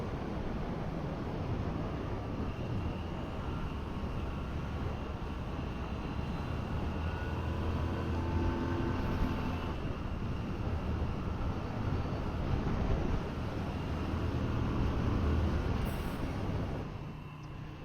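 A Moto Guzzi V7 Special motorcycle engine chugs along steadily on a ride, a continuous low drone with wind rush, fairly loud and smooth throughout with no talk.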